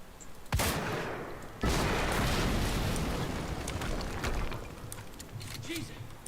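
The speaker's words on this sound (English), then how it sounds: "HQ, we just heard an explosion near the harvesting perimeter." In the video game Quantum Break, a sudden loud blast is followed by a second, bigger explosion. Both leave a long, roaring rumble that slowly fades under chaotic, crackling battle noise.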